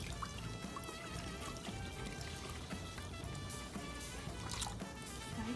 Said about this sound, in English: 4 cups of water.